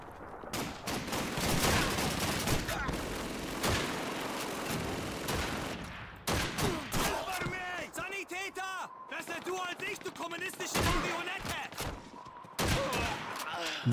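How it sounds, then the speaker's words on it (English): Rapid machine-gun bursts and scattered rifle shots crackle through a Call of Duty 2 battle on the Russian front, loud and dense at first, then choppier with pauses, while someone talks over the gunfire. "Man, those machine guns are crazy."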